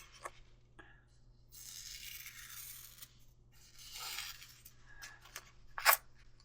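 A MicroTech paring knife slices through a tough paper-towel-type cloth, giving faint scratchy rasps in a few separate strokes, with a sharper brief scrape near the end.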